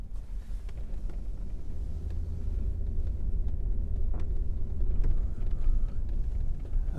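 A very old Mercedes drives on a busy street for its first outing, a steady low engine rumble and road noise heard from inside the car, with a few faint clicks and knocks.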